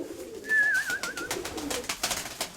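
A pigeon's soft, rolling coo sounds close by, accompanied by light flapping and fluttering.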